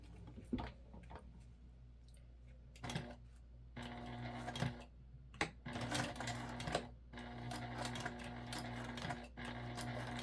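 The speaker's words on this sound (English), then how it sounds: "we have to just sew together the sides of our pocket. So we're just putting this in the machine." Sewing machine stitching the sides of a fabric pocket for a crossbody bag, bursts of rapid mechanical whirring broken by short pauses and clicks, close and moderately quiet.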